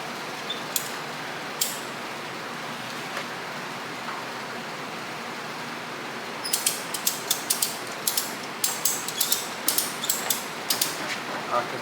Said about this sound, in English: And I got ratchet straps set up.